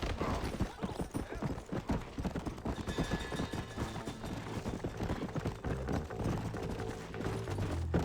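Horse hooves gallop in Red Dead Redemption, a rapid, steady run of close, loud hoofbeats that lasts throughout over a dense game soundtrack.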